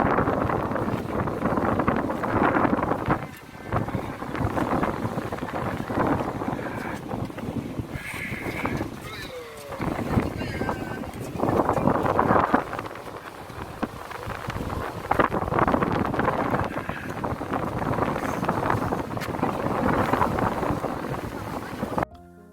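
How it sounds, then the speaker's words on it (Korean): Strong wind roars steadily across the microphone on a rainy-clouded day at the Deunggisan Skywalk on the coast at Hupo, South Korea, a loud, continuous rushing gust with no break, rising and falling slightly in force. "이곳에 서니 바람 소리까지 굉장합니다."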